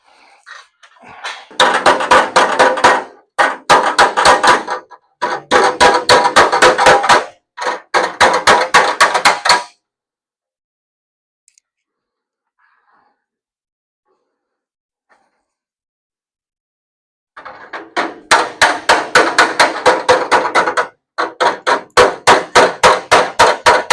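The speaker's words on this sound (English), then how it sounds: "So a little hammer and dolly work, and we'll be all set over here." Hammer and dolly work on the metal bodywork of a '71 Challenger barn find: sharp, rapid taps in tight bursts of several strikes each, loud and close, with a long silent gap before the hammering resumes.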